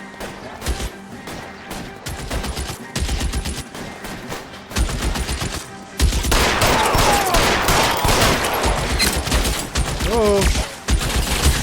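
Rapid bursts of gunfire in the video game L.A. Noire, sparse shots at first and then sustained loud volleys, with someone talking over them.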